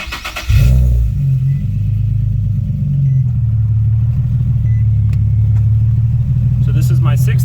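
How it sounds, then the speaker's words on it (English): A Nissan 370Z's engine starts and settles into a steady, loud low idle rumble that runs throughout, with a brief rev at the start. "Turn on your car for this if you need to as well."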